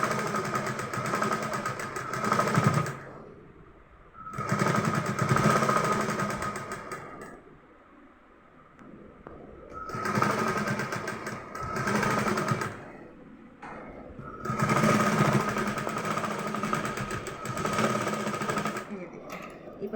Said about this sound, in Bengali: এবার তাহলে আমি সেলাইটা সাইডের থেকে শুরু করি